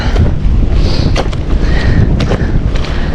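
Strong wind buffets a microphone outdoors beside an old fishpond in the provinces, a loud continuous rumble with gusty bursts throughout.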